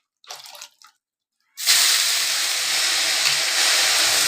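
Water poured from a vessel onto leafy greens in a kitchen, a steady close splashing rush that starts abruptly after a short burst of speech and continues to the end.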